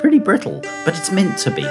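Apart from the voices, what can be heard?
None of the usual background noises is heard.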